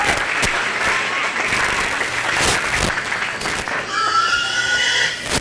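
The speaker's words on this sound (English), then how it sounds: "give everybody behind the scenes a round of applause" A county fair crowd applauding steadily, with a few sharper claps standing out and some faint background noise toward the end.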